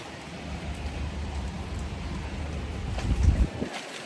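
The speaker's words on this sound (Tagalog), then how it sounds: "Grabe guys, ang lakas ng ulan." Heavy typhoon rain pours steadily outdoors, a dense hiss mixed with wind buffeting the microphone, swelling into stronger gusts near the end.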